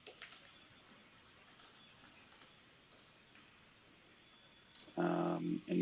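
Quiet, irregular clicking of a computer keyboard as GraphQL type definitions are typed out for a Neo4j project, with soft keystrokes scattered across several seconds before a person briefly starts talking near the end.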